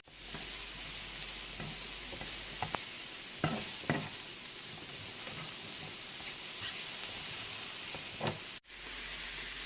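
Homemade Salisbury steak patties sizzle in gravy in a pan, a steady close frying hiss that runs throughout with a few faint clicks and taps, and no talking.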